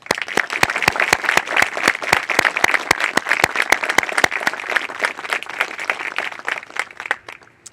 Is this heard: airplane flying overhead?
no